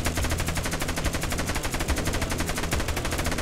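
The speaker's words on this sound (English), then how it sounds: "let's get up on this turret and let's start shooting them with the turret" Rapid, sustained turret machine gun fire in the Roblox game Dead Rails, a loud continuous rattle of evenly spaced shots with no pauses.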